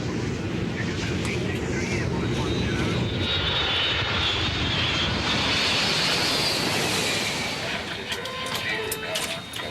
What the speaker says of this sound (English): At 9:03 p.m., Egypt Air Flight 648 is finally cleared for takeoff.